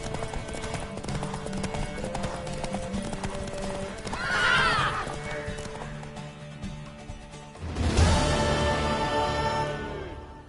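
Horse in the video game Witcher 3 galloping with steady clip-clop hoofbeats under game music, neighing loudly around the middle and again near the end.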